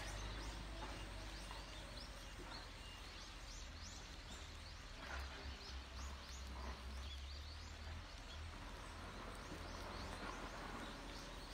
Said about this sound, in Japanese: こんな感じでね、鳥のさえずりがすごい